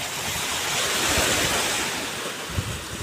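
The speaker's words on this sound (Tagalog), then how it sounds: "Malakas yung alon guys ngayon." Heavy ocean surf roars steadily on the shore with wind buffeting the microphone, a continuous wash of breaking waves with a louder surge near the end.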